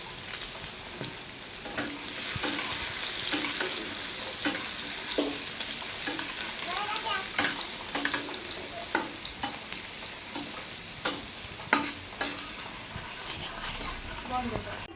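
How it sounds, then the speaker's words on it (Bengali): Carrots frying in a pan for a Bengali vegetable dish, giving a steady, close sizzle broken by repeated scraping stirs of a utensil across the pan. "ওগুলোকে সুন্দরভাবে ভেজে নেব গাজরগুলো একটু শক্ত হয় তো"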